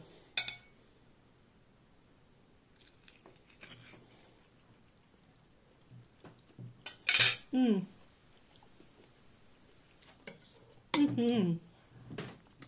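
Cutlery cutting into and lifting a slice of classic upside-down tarte tatin, with sparse clinks and scrapes against a plate, a couple of louder metallic taps amid quiet pauses.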